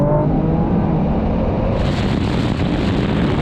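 Nissan GT-R Nismo, Honda NSX and Porsche 911 Turbo S launching off the line in a drag race, a loud dense engine roar with heavy wind rush, building steadily, no talk.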